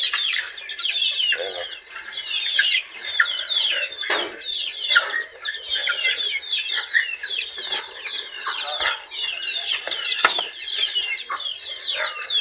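Laying hens and chickens on a small poultry farm cluck and chatter continuously, many birds close by in a busy overlapping chorus, with brief low thumps and a little talk underneath.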